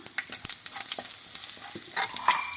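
Mustard seeds crackle and pop in hot oil, with quick irregular snaps over a soft sizzle, close and moderately loud.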